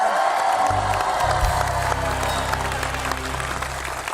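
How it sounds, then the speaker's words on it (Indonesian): Studio audience applause on an Indonesian talk show fills the stretch as steady, dense clapping, with low music or crowd noise beneath and brief voices mixed in. "Tepuk tangan lagi dong, sekali lagi dong."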